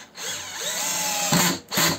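A TopShak TS-ED1 cordless hammer drill, used as a screwdriver, whirs up in a rising whine for about a second, then gives two short, louder bursts close by.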